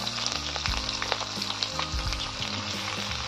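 Chopped onions dropped into hot oil crackle and sizzle loudly and continuously, with a dense, busy spitting texture and brief stirring scrapes, close up with no voices.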